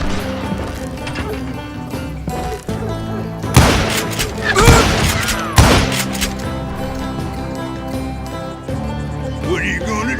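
Gunfire in the Western shooter Call of Juarez Gunslinger: a cluster of loud, sharp blasts erupts midway, with some echoing cracks, over a continuous orchestral game score.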